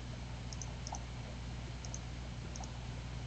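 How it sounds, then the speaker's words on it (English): Sparse, faint mouse or keyboard clicks from Minecraft play arrive in small pairs over a steady low hum, with no one talking. "Sorry about the loud clicking sound if you hear it."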